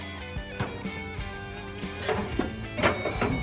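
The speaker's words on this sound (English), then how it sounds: "I'm scraping inside here, so all the debris that I'm getting off this grate right here or any other grates is going to fall into the Pit Boss" Grill grate inside a Pit Boss Austin XL pellet grill being scraped clean with a metal scraper, a series of uneven rasping, clattering strokes at close range, some louder than others, with no talking.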